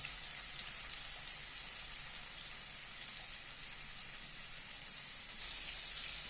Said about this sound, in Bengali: আমার জয়তুনের তেলটা গরম হয়ে গেছে, আমি দেখেন টমেটোটা দিয়ে নিতেছি